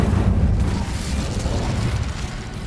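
Incendio fire spell cast in Hogwarts Legacy, a loud, continuous roaring whoosh of flame with deep rumbling body that fills the whole moment and tapers slightly toward the end.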